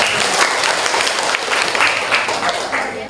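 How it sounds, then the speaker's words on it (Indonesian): Classroom applause from a group of high school students, steady broadband clapping filling the room for about three seconds with faint voices mixed in. "Aplaus dulu dong"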